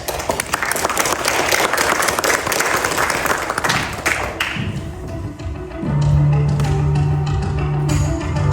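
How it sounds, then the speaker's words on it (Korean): An audience at an elders' prayer breakfast gathering in a church claps in welcome, a dense burst of applause that fades after several seconds, followed by a quieter room and a sustained tone. "장로님 나오실 때 우리 함께 큰 박수로 환영해 주시겠습니다."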